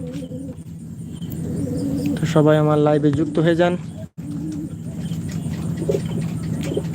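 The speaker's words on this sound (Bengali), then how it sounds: "গ্রিবাস জাতের বিভিন্ন কোয়ালিটির কবুতর রয়েছে" Fancy pigeons such as Royal, Teddy, Prince, Kaga, Budapest, Pankhi and Gribas breeds coo softly and steadily in a loft, under someone speaking close to the microphone.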